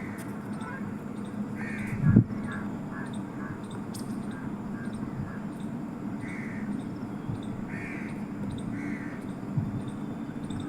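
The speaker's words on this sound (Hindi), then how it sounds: "पक्षी हमारे यहाँ ये घूम ही रहे हैं।" Crows caw outside in the morning, faint repeated calls spaced over several seconds above a steady low background hum, with an occasional nearby knock.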